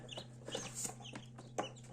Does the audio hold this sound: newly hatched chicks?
yes